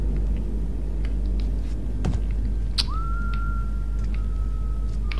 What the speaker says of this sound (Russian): Кто там свистит? Не свисти,